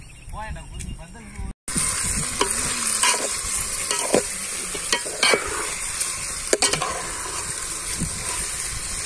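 Chicken curry bubbling and sizzling in a pot, a steady close hiss broken by sharp scraping stirs and soft clinks, with a voice briefly talking at the start.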